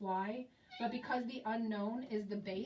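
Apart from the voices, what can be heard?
cat meowing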